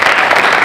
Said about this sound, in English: Give her a round of applause, Haley, as she comes to the microphone.